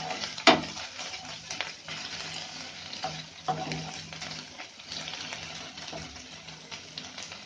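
Ginger paste frying in a pan for a fish butter masala: a soft, faint sizzle runs throughout, with occasional stirring scrapes and clinks close by.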